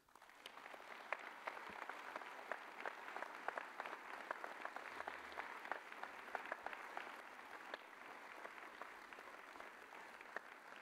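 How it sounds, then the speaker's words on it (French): Sustained applause from an audience honouring alpine troops at a mayor's New Year ceremony in Voiron, a steady, fairly distant wash of clapping with individual sharp claps standing out, continuing for about eleven seconds. "s'il vous plaît, les applaudir comme ils le méritent."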